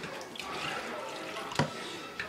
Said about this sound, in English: Now I have the water on completely cold,